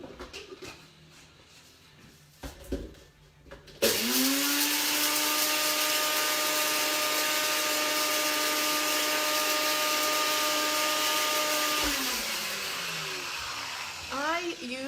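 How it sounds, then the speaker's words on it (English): A bullet blender whirs loudly and steadily for about eight seconds as it purees homemade sausage seasoning, its motor droning at an even pitch before winding down, with brief handling sounds before and after. "And I'm going to blend that up"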